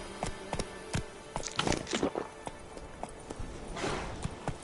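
The horse Roach from the game The Witcher 3 clip-clops steadily on hard ground, each hoofbeat distinct and close. A few louder scuffing steps are mixed in and no one speaks.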